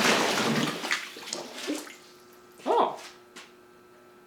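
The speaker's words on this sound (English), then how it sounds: "It seems like there's a lot of bubbles coming out of the handle." Compressed CO2 gas released underwater, bubbling and gurgling out of a submerged handle in a few short bursts, with one louder gush near the end; a person briefly exclaims.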